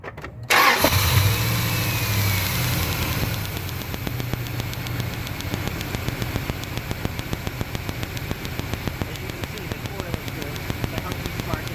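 A car engine cranks and fires up during an ignition coil test, then settles into a steady, loud idle with a rapid regular ticking pulse; no talking is heard.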